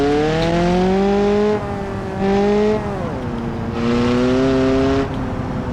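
A Beater mod car engine in BeamNG.drive revs steadily, its pitch rising and dipping through several throttle swells, loud and close with no voices.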